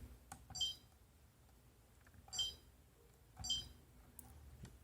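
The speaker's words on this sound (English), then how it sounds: "Beep sound." Three short electronic beeps from a Dsoon H8201 digital trail camera sound at spaced intervals over a quiet background, faint and thin.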